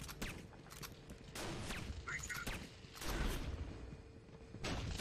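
Semi-automatic gunfire in the video game Gotham City Impostors: separate sharp shots at uneven intervals, loud against a busy game background with some voice underneath.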